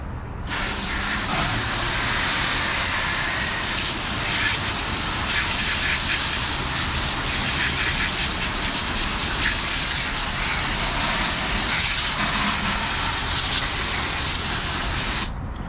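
A hose nozzle blasts water onto a car wheel after iron wheel cleaner has been applied, making a loud, continuous gushing spray that begins abruptly and stops abruptly after about fifteen seconds.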